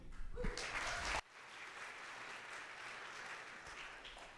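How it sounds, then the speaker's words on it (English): Audience clapping at a city council meeting, a loud burst that cuts off abruptly after about a second, followed by a softer, steadier patter of applause in the room. "You guys' clapping is going to take up a lot of time"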